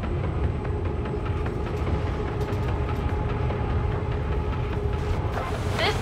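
Rogue train rolling through the Rolling Steel map in Warhammer 40,000: Darktide, a steady dense rumble of wheels and carriages with faint metallic clanks, continuous and close for the whole stretch.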